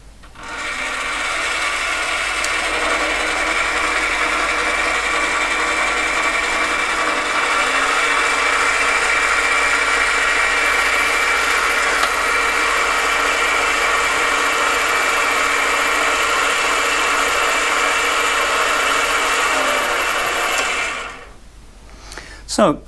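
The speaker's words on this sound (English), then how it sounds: "I'm going to start up the motor, feed the tool in, and see if it cleans up the material" Mini lathe motor runs steadily for about twenty seconds while the cutting tool faces the workpiece, giving a loud, even whine with a faint scraping texture, then stopping at the end.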